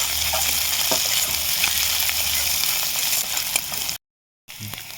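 Onion frying in oil with ginger, garlic and green chilli for a pocket paratha filling, with a steady close sizzle and scraping stirs. The sound cuts to silence briefly near the end, then resumes.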